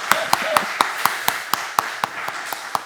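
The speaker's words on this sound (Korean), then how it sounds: "이렇게 박수 쳐야 돼요." Rhythmic hand clapping at a Korean church revival service, about a dozen sharp, evenly spaced claps at a brisk steady tempo, close and distinct, with faint voices in the background.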